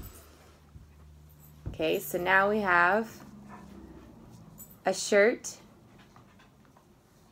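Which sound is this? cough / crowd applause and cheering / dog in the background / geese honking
dog in the background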